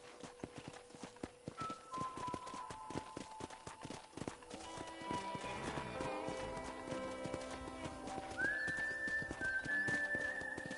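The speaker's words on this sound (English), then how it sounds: "I picked out a fine horse for you." Steady clip-clop of horse hooves trotting in the Red Dead Redemption video game, a continuous rhythmic stream of hoofbeats with game music and ambient tones underneath, growing a little louder toward the end.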